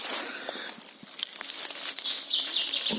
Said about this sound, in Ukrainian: Чуєте, тут пташка неподалік співає, вона ніби мене гукає.